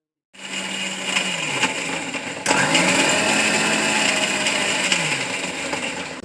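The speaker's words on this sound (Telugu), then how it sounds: "వీటన్నిటిని ఒక మిక్సీ జార్లోకి తీసుకొని బాగా మెత్తగా మిక్సీ పట్టుకుందాం" An electric mixer grinder whirring as it blends onions, dried red chillies, salt and cumin into a paste, starting abruptly and running loud and steady with a pitch shift midway, no voices.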